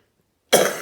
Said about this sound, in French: vous voyez, ça me fait tousser.